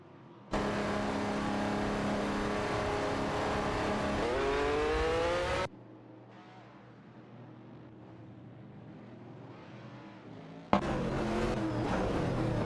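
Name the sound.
race cars on track in a racing simulation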